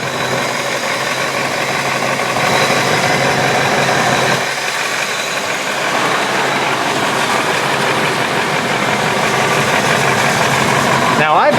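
A 1998 Ford E-350 box truck sits idling, its engine giving a steady, continuous low rumble close by for the whole stretch, with a slight change in tone around the middle and no voices over it.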